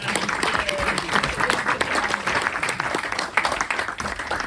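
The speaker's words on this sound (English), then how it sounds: "give her a round of applause" Audience applause at a creator day launch event, a loud, sustained mass of clapping from a crowd with some cheering voices mixed in.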